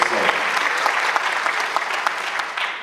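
Sustained applause from an audience at a legal conference, a dense patter of many hands clapping steadily before fading out at the end.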